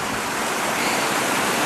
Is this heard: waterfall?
yes